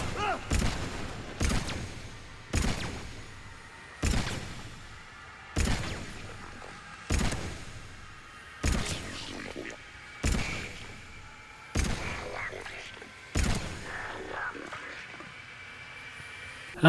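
Gunfire in the video game Mass Effect 3, fired in a slow-motion section: about ten heavy, booming shots spaced roughly one to one and a half seconds apart, each with a long decaying tail, standing alone without talk.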